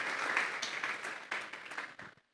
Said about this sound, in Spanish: Vamos a regalarle ofrenda de palmas a ese Dios que lo estamos esperando.